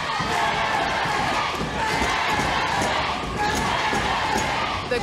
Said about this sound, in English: The crowd going absolutely insane.